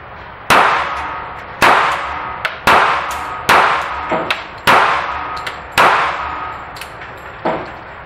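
A Springfield XDS .45 ACP pistol with a 3.3-inch barrel fires about seven sharp, loud shots outdoors in an uneven sequence, each crack followed by a short decaying tail, with no talk.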